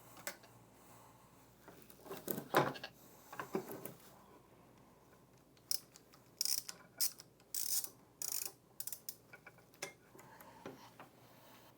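Allen screws are loosened on the brush assembly of an Atlas floor buffer, heard as faint scattered scrapes and then a run of close, crisp mechanical ticks and clicks in a quiet room.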